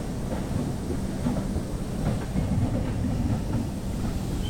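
The 13042 Himgiri Express on its Varanasi to Howrah run, pulling into Asansol Junction, heard from on board as a loud, steady rumble with clattering wheels on rail throughout.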